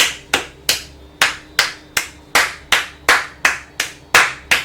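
About a dozen slow, evenly spaced hand claps ring out close and crisp, each a sharp smack with a short decay and nothing else between them.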